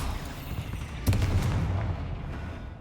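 An Expelliarmus spell cast in the video game Hogwarts Legacy, heard as one sudden sharp burst with a short booming low-end tail over a busy game background.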